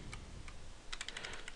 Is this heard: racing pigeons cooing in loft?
no